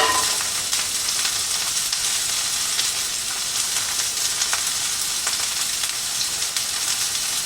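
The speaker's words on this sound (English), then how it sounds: "We got the scallions and the carrots in the hot pan." Scallions and carrots fry in a hot pan with a steady, dense sizzle that holds at an even, fairly loud level throughout, with faint crackles and no voices.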